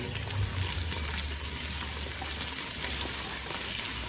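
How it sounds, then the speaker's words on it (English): Clove powder and onion sauté in a pan, giving a steady, close sizzle and crackle with a low hum underneath that holds even for the whole stretch, with no talking. "Now we will saute it until"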